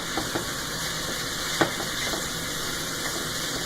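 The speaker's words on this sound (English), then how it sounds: "Got the onions caramelizing." Onions caramelizing in a pan give a steady, close sizzling hiss, broken by a few light stirring clicks and one sharper tap partway through.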